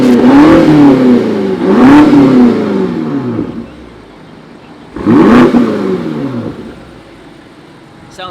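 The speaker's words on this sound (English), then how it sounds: "You can hear the exhaust note change a little bit." A 2019 BMW M5 Competition with aftermarket Armytrix downpipes, in sport mode, revs up twice, each burst rising sharply then falling away as the exhaust note settles, loud and close.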